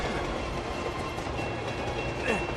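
A train rolls steadily in the Uncharted 2 video game, a loud continuous rumble with rail clatter and wheel noise throughout, a brief higher screech near the end.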